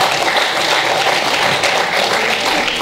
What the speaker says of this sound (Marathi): जरा जोरदार खळखळ टाळ्या होत्या